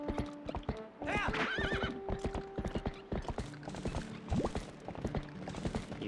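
Epona, the horse in Zelda: Twilight Princess, gallops with rapid clip-clopping hooves and lets out a whinny, with game effects and a voice talking over it.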